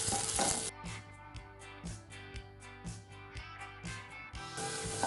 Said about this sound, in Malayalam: എന്നിട്ട് ഇത് നന്നായിട്ട് വഴറ്റാം.